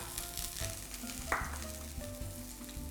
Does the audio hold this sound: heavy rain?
no